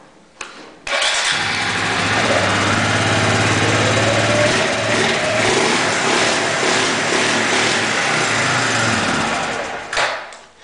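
An ATV engine, freshly running again after its carburetor was cleaned, starts up and then runs at a steady, loud, close idle for about ten seconds before shutting off.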